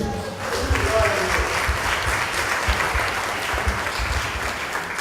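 Steady, dense applause from a large crowd at a religious service, continuous throughout with no pauses, fairly loud and even.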